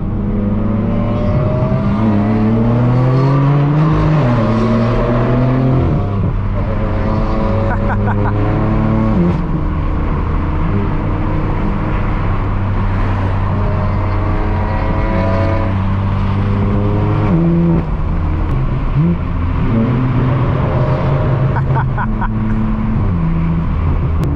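Several straight-piped BMW cars, including an S50-engined one and a BMW M4 F82 with loud exhaust, roar nearby, rising and falling in pitch as they accelerate and downshift, loud and continuous throughout.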